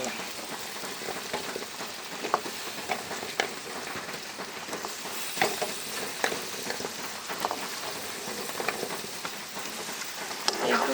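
Vegetables coated with turmeric and chili being stir-fried for a lotpoti dish, a steady crackling sizzle with irregular louder spatters and stirring scrapes throughout, close with no voices.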